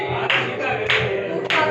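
Hands clap three times, about half a second apart, sharp and close, over a busy household background with faint voices.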